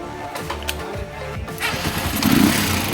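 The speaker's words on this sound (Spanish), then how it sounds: "Ahí la moto prende de una." An AKT motorcycle engine, previously suffering from weak or missing spark, is cranked and fires up on the first try, with sputtering turnover giving way to a louder, rising engine roar close by.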